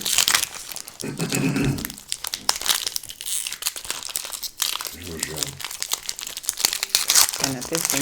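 Foil Pokémon card booster wrappers crinkle and tear in repeated bursts, close and loud, while people talk over the rustling.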